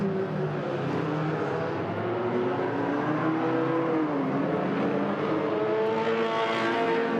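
Hornet enduro race cars lapping the roval at Agassiz Speedway, their engines whining and shifting pitch as they accelerate and pass, heard at moderate distance in a continuous overlapping drone.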